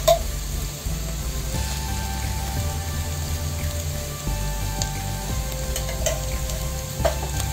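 A potato and spinach sabzi sizzles and crackles steadily in a pan as desi ghee is added, with occasional scraping stirs and a low hum underneath, no voices.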